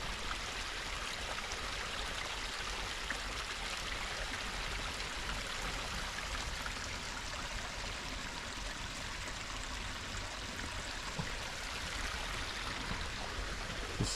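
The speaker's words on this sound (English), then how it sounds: "Or maybe this is the waterfall and this is the cascade." The Canyon Creek waterfall and cascade at Waterfall Glen in Lemont, Illinois, give a steady, broad rush of flowing water, continuous and even with no voices.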